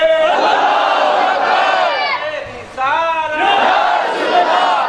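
A large crowd roars back slogans in unison at a gathering in Mirpur, with loud sustained chanting, a short dip, then another full-throated surge.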